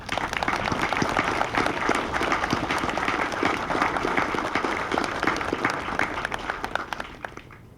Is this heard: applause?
yes